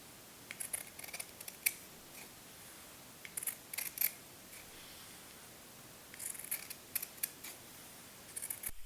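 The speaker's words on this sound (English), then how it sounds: "cut your pieces of fabric into manageable pieces" Scissors snipping through cotton fabric pieces for beeswax wraps, a quiet room with short crisp clusters of cuts and pauses between them, close and fairly soft.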